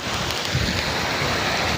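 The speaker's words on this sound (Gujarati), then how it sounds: "વરસાદ પણ ધીરે ધીરે ધીરે ધીરે થતા પડવા માંડ્યા" Rain is beginning to fall, a loud, close, steady hiss of drops with a low rumbling undertone. It holds evenly, then cuts off abruptly.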